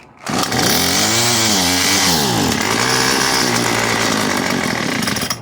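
A small two-stroke Craftsman WS210 string trimmer engine, its carburetor needing adjustment, starts and runs loudly up close, its pitch swooping up and down with the throttle before settling into a steady buzzing idle.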